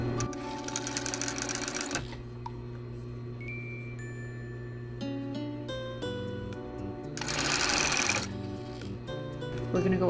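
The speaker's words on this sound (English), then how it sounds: "we're gonna stitch like literally 1/8 of an inch" Sewing machine top-stitching an eighth-inch seam on fabric shorts, heard as two loud bursts of fast, even needle chatter with a quieter, steady room hum in between.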